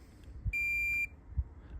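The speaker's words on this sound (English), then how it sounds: "We want to go on the side of them and hear them beep." A multimeter in continuity mode touches the stator winding of a Suzuki Grand Vitara alternator and gives one clear, steady high beep lasting about half a second, framed by soft probe clicks in a quiet room.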